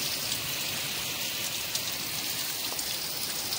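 Steady rain falling continuously outdoors, a dense even hiss of drops with no talk over it.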